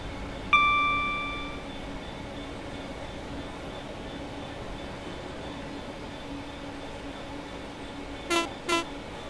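A train in Train Sim World 4, hauled by two electro-diesel locomotives pulling 24 cars, gives one sharp horn toot near the start. A steady low rumble follows, with two brief rhythmic clattering bursts near the end.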